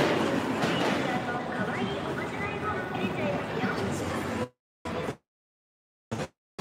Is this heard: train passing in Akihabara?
yes